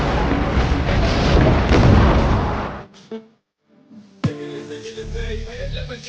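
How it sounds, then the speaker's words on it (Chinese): Movie battle scene with dozens of hand grenades exploding together: a loud, sustained roar of blasts that cuts off, a brief lull, then another sharp boom with rumbling debris and lingering crashes. "几十个手雷同时扔向对方。"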